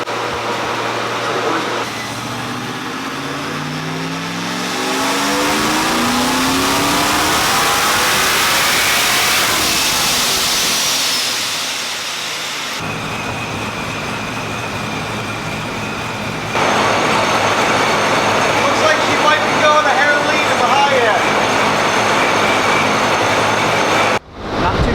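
TrailBlazer SS on E85 fuel roars on a dyno, rising from idle into a long, loud wide-open pull that climbs and fades, then drops back to a steady engine drone.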